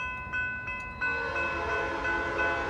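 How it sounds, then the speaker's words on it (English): A Norfolk Southern freight train sounds its horn in three short blasts, then holds one long sustained blast over the rumble of the passing train, fairly loud and close. "4th train of the day, all right."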